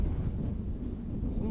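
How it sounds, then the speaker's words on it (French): Strong wind buffets the microphone, producing a continuous low, rumbling roar with no other sounds. "gros vent de face, vous pouvez voir là."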